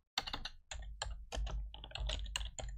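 Keys clatter in quick, uneven bursts on a computer keyboard as a short name is typed. The clicks are close and crisp, with no talking.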